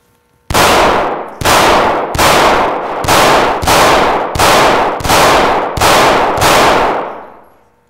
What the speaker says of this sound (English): Let's shoot some books.